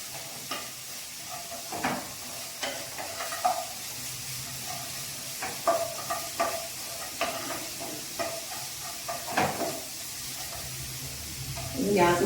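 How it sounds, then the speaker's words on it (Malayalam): Ginger garlic paste with chopped green chilies sizzles in a pan on low heat for a Kerala white chickpea curry, with a steady frying hiss and repeated stirring scrapes as a voice talks over it. "നമ്മളതാ ഇഞ്ചി വെളുത്തുള്ളി പേസ്റ്റ് ഒന്ന് ഇളക്കി കൊടുത്തു."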